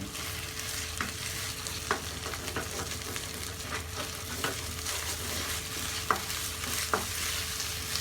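Chili paste sizzles steadily in oil in a wok, close and continuous, with periodic scraping knocks of a spatula stirring it every second or so; no voices.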